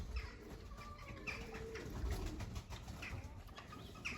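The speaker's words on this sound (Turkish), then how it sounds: "Bir Trakya makarası arka tepeli." A crested Thrace roller pigeon coos softly in repeated low, throaty phrases, faint and close-by against quiet background noise.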